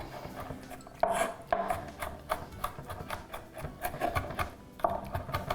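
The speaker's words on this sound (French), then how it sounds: "hacher finement" A knife finely chops food on a cutting board in a home kitchen, giving a quick, irregular series of soft taps and scrapes at close range, with no talking.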